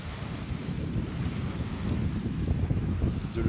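Steady wind gusts roar against the microphone over an open lake where a radio-controlled trimaran sails, with low rumbling and faint lapping beneath.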